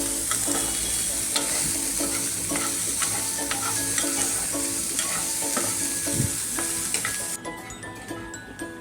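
Chopped onion sizzles steadily in a pan for a Marathi radish bhaji, softening in hot oil while a spatula scrapes and stirs with frequent clicks; the sound stays close and fairly loud and eases off slightly near the end, with no talking.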